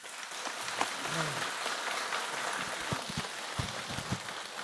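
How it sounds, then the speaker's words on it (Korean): Audience applause in a Korean Buddhist temple Dharma talk hall, a steady wash of many hands clapping at moderate distance, with a few sharper claps standing out and a brief voice near the start. "문강스님을 위해서 박수 한번 쳐주십시오."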